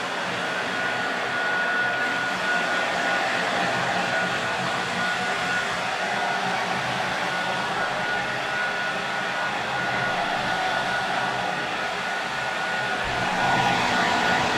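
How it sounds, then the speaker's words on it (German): A hair dryer blows on a man's hair, a steady broadband whoosh of airflow with a constant motor whine, close and unbroken for the whole stretch, without speech. "Ich hab mir ungefähr so seit 30 Jahren nicht mehr die Haare geföhnt."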